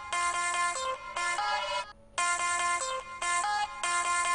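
A phone ringtone plays a repeating electronic melody in bursts, loud and close, with a short pause midway, and no talking over it.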